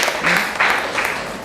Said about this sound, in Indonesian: tepuk tangan untuk kelompoknya Araya